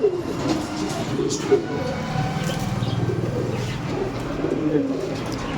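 Low, throaty pigeon coos repeating close by at a pet bird shop in Serampore, mixed with steady background rumble and a few voices.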